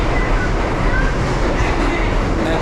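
A New York subway train running in Brooklyn, a steady loud broadband rumble and roar of wheels and carriage noise throughout, close and continuous.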